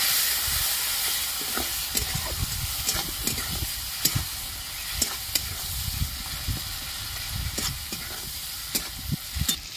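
Spices sautéing in a pan with turmeric, chilli, coriander, cumin and a splash of water, giving a continuous close sizzle with repeated scrapes and clicks of a stirring utensil.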